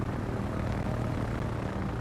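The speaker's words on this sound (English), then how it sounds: "We got 4 plane groups flying across." Carrier aircraft groups flying in the World of Warships video game, a steady loud propeller-engine drone filling the whole stretch with no talk.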